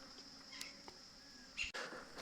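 A captured swarm of honey bees from a merged colony kept by a beekeeper, giving a faint, steady insect buzz with a few louder passes as single bees fly close by, and no speech.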